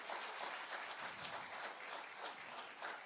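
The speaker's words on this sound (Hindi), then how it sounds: "तालियां एक बार जोरदार आप सबकी तरफ से होनी चाहिए।" An audience at an official ceremony in Jharkhand, held for the distribution of appointment letters, claps steadily for a few seconds, moderately distant, with no voices over the applause.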